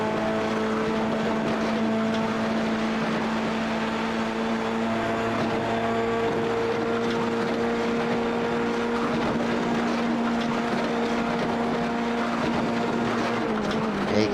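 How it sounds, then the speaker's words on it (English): Race car engine from a TCR or F3 sim racing round, heard on board as a steady, loud, buzzing drone held near the rev limiter throughout, with no breaks or gear changes. "let's stay on board and see if we can hear this machine revving out"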